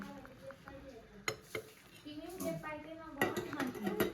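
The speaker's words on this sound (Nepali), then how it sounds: "नुडल्समा काटेर बनाउनु चाहिँ टक टक टक गरेर हो" Quick metal clinks and taps of a utensil cutting spicy instant noodles in a pan, close and irregular, mixed with people talking nearby.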